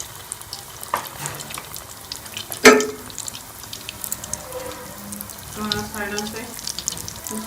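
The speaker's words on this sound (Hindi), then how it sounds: "अब हम इसमें अपने ब्रेड बॉल जो है वो फ्राई कर लेंगे" Breadcrumb-coated bread balls fry in hot oil with a steady low sizzle, joined by a sharp clatter near the start and soft stirring or scraping movements, while a voice speaks briefly over the cooking.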